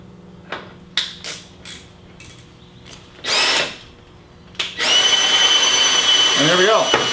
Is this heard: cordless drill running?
yes